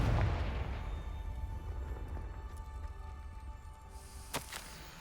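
Confringo blast spell in Hogwarts Legacy, a deep rumbling explosion that booms at the start and slowly fades into a low roar, followed by a couple of sharp cracks near the end.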